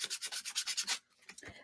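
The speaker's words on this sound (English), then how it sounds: "before I paint the centers on these flowers, I'm going to sand them" Wooden craft flowers are sanded by hand with quick, rhythmic rasping strokes, about eight close scrubs in a row, followed by a few softer scrapes.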